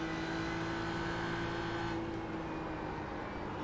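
A BMW race car in the iRacing simulator at Road America, its engine droning steadily at high revs. The sound is faint and constant, with only a slight change midway.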